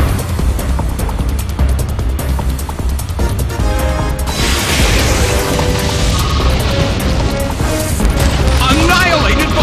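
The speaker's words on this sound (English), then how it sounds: "Annihilated by explosion." An Explosion move detonates in a Pokemon Battle Revolution battle, a loud dense blast with crashing debris that swells midway and rolls on under game music and announcer-style effects.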